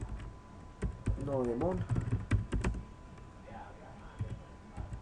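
Keys on a computer keyboard clack in short quick bursts, close and moderately quiet, under someone speaking.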